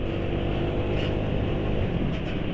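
A Suzuki Nex II scooter engine runs with a sustained, close engine drone at steady loudness, with no clear drop once the throttle is released within this short stretch.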